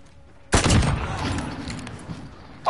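Loud close gunfire from a Call of Duty 1v1 match: a sharp burst breaks in suddenly and trails off into a rumbling decay, with a final shot at the end.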